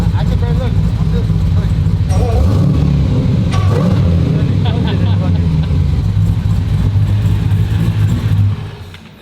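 A Hellcat-engine swapped Foxbody Mustang rumbles loudly and continuously close by, its deep engine note revving and surging throughout before easing off near the end.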